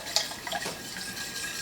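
Liquid being poured into a bowl while making homemade yogurt from freeze-dried whole milk, a short splashing trickle at close range with a light clink at the start.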